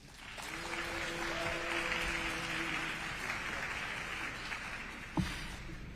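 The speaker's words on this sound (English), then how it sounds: "clapping is a disruption of a congressional proceeding" Sustained clapping from an audience at a congressional hearing fills the room, a steady crackle of many hands with a brief louder thump near the end.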